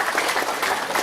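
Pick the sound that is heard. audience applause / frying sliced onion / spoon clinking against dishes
audience applause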